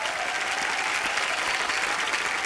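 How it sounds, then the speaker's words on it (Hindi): An audience at a live show with a film actress on stage breaks into loud, sustained applause, a dense even wash of many clapping hands at close range with no pauses. "एक बार बच्चा के लिए जोरदार तालियां"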